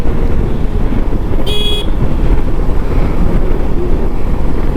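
A single short car horn toots near the start, standing out over the steady, dense rumble of a traffic jam stalled behind a broken-down truck on the road near Lonavala.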